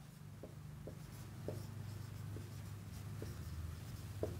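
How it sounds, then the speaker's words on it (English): Handwriting during a math lecture on Cauchy's residue theorem, faint pen or chalk strokes tapping and scratching in a sparse, uneven rhythm over a low steady hum. "let me write"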